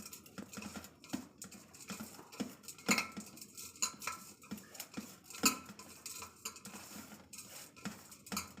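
Salt and sugar being mixed into food in a bowl, with close, irregular clinks and scrapes of a utensil against the dish and soft rustling between them, and no talking.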